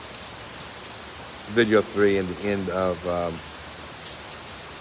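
Steady rain patters on surfaces in a park, a broad even hiss that runs through the whole stretch, with someone talking briefly over it in the middle.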